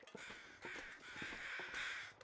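Carrion crows caw in The Long Dark survival game: a string of harsh, rasping calls repeating in quick succession, fairly close and clear over a quiet background.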